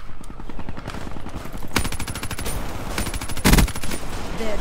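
A machine gun in Black Ops 3 rattles off a steady stream of rapid, close, loud shots with barely a pause, punctuated by a heavier burst near the middle.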